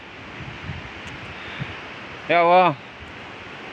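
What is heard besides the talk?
heavy rain with strong wind during a storm in Lumajang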